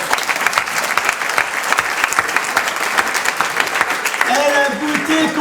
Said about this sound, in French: On peut applaudir le Seigneur Jésus